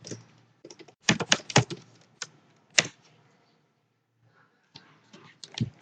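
Business name typed on a computer keyboard, bursts of crisp close key clicks in uneven runs, with a pause of near silence before a final flurry of keystrokes.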